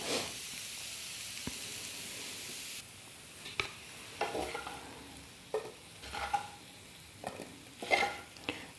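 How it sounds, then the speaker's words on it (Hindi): Grated carrot and radish pickle fries in a pan, with a soft background sizzle broken by intermittent spoon-scraping and stirring clatters that grow more frequent toward the end. "हम इसे भूनेंगे तो फिर मूली अपना पानी रिलीज़ कर देगी"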